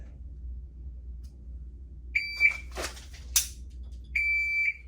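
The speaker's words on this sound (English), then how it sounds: "waiting for the beeper to go beep" Electronic beeps sound in short tonal bursts: a sustained beep, a brief click-like burst, then another long steady beep, over a quiet low hum.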